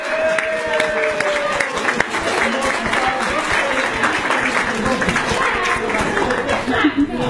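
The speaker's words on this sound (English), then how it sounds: "Now, I'd like to put a warm round of applause for Zoe" Wedding guests applauding at a reception, a warm, steady round of clapping mixed with crowd chatter and some talking over it.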